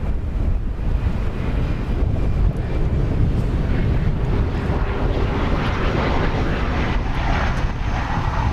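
An airplane on approach to land at DFW airport rumbles as a steady broad roar, heavily mixed with gusting wind noise against the microphone, constant and fairly loud with no talk.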